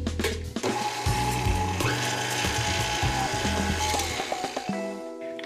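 An electric mixer whirs through cake batter of vanilla extract and other wet ingredients, a busy mechanical hum with shifting, rattling tones and small surges over about five seconds before it cuts off, no voices.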